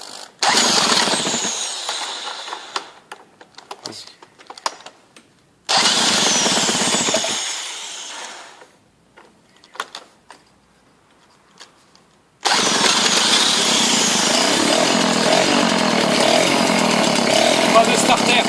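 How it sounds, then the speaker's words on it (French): A rebuilt 1985 moped engine, type 203 MV, started warm without choke, catches in loud buzzing bursts that die away, with quieter gaps between attempts, then settles into a steady high-pitched two-stroke run for the last several seconds. "Deuxième tentative de démarrage de mon moteur 203 MV de 1985."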